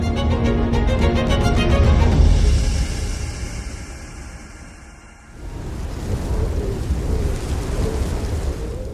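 Heavy monsoon rain pours down in Mawsynram, Meghalaya, with rolling thunder. Loud, dense rainfall fills the scene throughout, with a deep rumble that swells early, then eases briefly before the downpour surges back.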